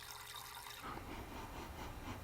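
Purified water pours from the pressurized spout of a Lifesaver jerry can at a campsite, a quiet steady gush that starts abruptly and runs on without talk.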